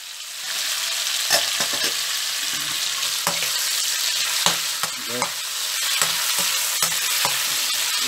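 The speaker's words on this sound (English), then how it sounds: "Now I'll fry the prawns. I put the marinated prawns. I fry them in 2 batches" Marinated prawns sizzle in a pan in a batch, a dense, even hiss running throughout with soft, irregular scrapes and taps of stirring underneath.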